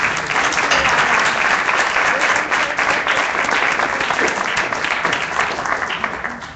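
An audience at a National Bar Association event applauds a panel, sustained dense clapping from a crowd that holds steady for several seconds before easing slightly at the end.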